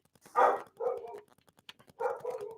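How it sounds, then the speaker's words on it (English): Dogs bark in a few loud, close bursts, some barks running together, followed by quieter rustling and scrabbling, with no talking. "I do apologize for the dogs barking."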